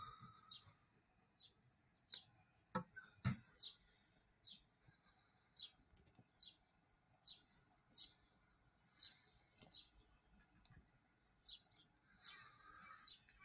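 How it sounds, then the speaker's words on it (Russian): Birds chirp outdoors in short, repeated tweets at regular intervals, faint and distant against a quiet background, with an occasional soft knock. "птицы."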